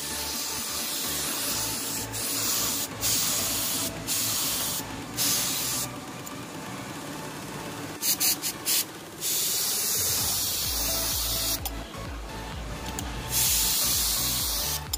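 Spray gun hissing steadily as blue paint goes over silver on a Yamaha Vixion motorcycle body panel, a continuous close airy spray broken by short pauses and bursts of trigger release.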